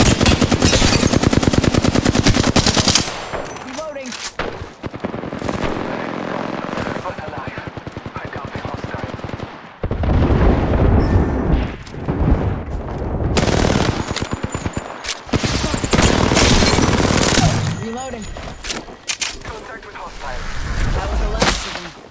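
Heavy gunfire in the video game Apex Legends, loud bursts of automatic fire and single shots in long stretches separated by brief pauses, with voices talking over parts of it.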